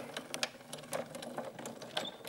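Jus-Cutz A4 die cutting machine rolling fabric through with metal dies, a quiet mechanical whir broken by irregular clicks and soft knocks, close by and alone.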